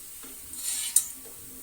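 Golden gulab jamun are lifted from hot frying oil, giving a soft, brief sizzle with a light metal clink of a spoon against the pan, close and quiet.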